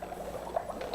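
Methane gas bubbles through soapy water in quick, faint, irregular pops and gurgles, closely spaced and steady over a quiet background.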